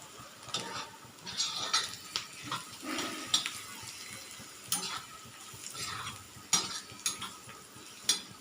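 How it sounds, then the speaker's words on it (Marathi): Chopped onion frying in a pan for a spine gourd wild vegetable dish, stirred with a utensil: a soft, steady sizzle under repeated scraping strokes and sharp metal clinks, close by, with no talking. "छानपैकी फ्राय झालाय कांदा"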